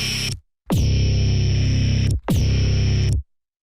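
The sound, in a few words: harsh bass sound before overdrive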